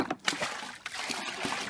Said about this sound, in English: I have to fill up her water.